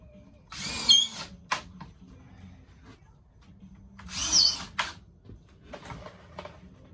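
A power drill drives screws into wooden stair parts in two short, whining bursts with a quieter third burst near the end, all separated by handling noise and rustling.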